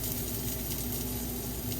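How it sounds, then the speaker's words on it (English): Bratwurst sausages sizzle softly in a pan at a solo campsite, a brief, faint, steady frying hiss with no voices. "Let these brats cook up."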